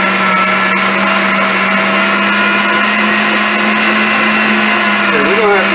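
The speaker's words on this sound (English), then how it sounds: "I'm gonna continue grinding this up" An electric meat grinder runs continuously while grinding chuck beef, a loud, steady motor whine with a constant hum that stays near and unbroken throughout, faint voice underneath.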